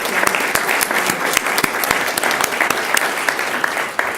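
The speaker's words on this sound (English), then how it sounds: "So if we can give them a big round of applause." An audience at a school district governing board meeting gives a big round of applause for the football parents, with dense, steady clapping filling the room for several seconds.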